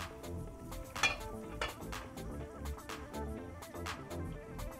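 A pot lid being set down on a cooking pot while making mushroom biryani in a home kitchen, with a few faint metallic clinks and scrapes over a soft background of low simmering.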